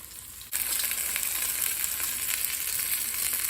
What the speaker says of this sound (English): the oil started smoking right away, so let's get those bad boys in. And we want to sear these on all sides